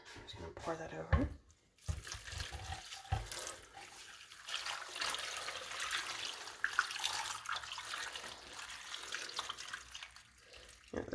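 Cold water pours and splashes over chicken into a pot for homemade broth, a running, trickling stream under a voice talking nearby.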